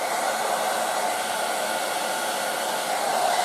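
A Revlon 1800W dual-speed hair dryer blows steadily on hot with a constant loud whooshing hum, close by and unchanging throughout.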